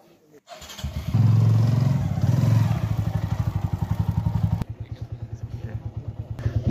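A motorcycle rides through Mustang in the Nepal Himalaya, its engine loud and close with a steady thumping idle-like pulse that runs throughout, briefly dropping then resuming; a voice talks over it.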